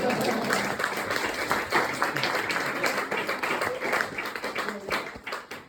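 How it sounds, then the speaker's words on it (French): A comedy festival audience applauds in a dense, sustained burst of clapping that thins toward the end, with voices and talk mixed in under the clapping. "on l'applaudit s'il vous plaît"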